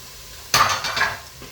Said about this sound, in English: Give those a stir just to get them coated with all that lovely turmeric, onion.